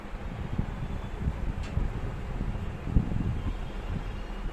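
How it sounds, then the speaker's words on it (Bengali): Wind rushes and buffets steadily with low rumbling gusts against the microphone, continuous throughout, no speech. "কি সুন্দর হাওয়া আসছে"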